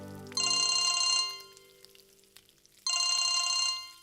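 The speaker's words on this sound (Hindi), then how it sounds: "मनु, फिर इंची का फोन है।" Electronic phone ringtone in a domestic scene, a bright repeating trill heard in two separate bursts with a quiet pause between them, fairly loud and close.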